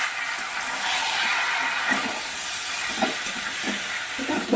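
Malabar spinach greens going into a pan where a hilsa fish head has been fried crisp, giving a loud, continuous hiss and sizzle with a few soft clattering knocks near the end.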